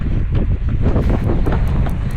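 Strong headwind buffeting the microphone during a hard long run, a constant loud roar and rumble with gusty fluctuations and no talking.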